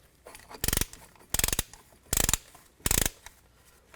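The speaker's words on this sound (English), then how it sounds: "I'm going to use a brake caliper tool to compress the piston." Ratcheting brake caliper tool compressing the piston on a 2008-2017 Buick Enclave front brake, four bursts of rapid metallic clicking in a steady rhythm, close and clear with quiet pauses between strokes.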